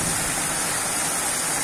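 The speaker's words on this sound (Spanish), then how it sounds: "Sigue la tormenta eléctrica, ahora observen la dirección de la lluvia" Heavy rain falling during an electrical storm in Mexicali, a dense, steady roar of rainfall close by, with no thunder or voices in this short stretch.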